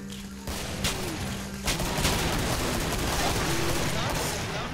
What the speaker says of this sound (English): Looks like he ate my spam cannon.